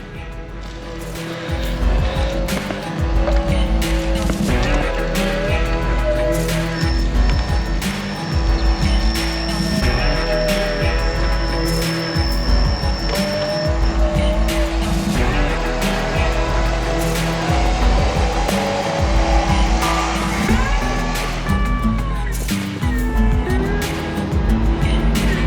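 Ford Bronco driving, a loud steady engine and road roar filling the whole stretch, with tire and drivetrain noise swelling and shifting as the vehicle moves along, nearby and continuous.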